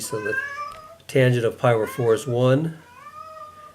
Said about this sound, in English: And this is, that's our cat